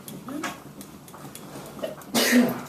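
A single sharp sneeze bursts out near the end, close and loud, following quiet murmuring talk.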